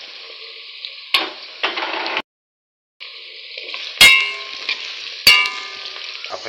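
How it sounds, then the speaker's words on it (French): Carrots are tipped into a hot pan of softened peppers for a Cameroonian fish and potato broth, giving a bright steady sizzle with sharp metallic clanks of a utensil against the pan and a short pause in between. "Je vais verser les carottes."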